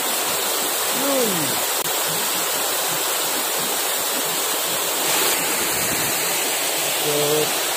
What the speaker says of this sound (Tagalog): Kawa Falls.